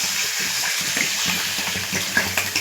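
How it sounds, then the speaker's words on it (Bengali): Water pours into an egg, potato and taro curry in a pot, a steady close splashing gush running throughout. "আর জল দিয়ে দেবো"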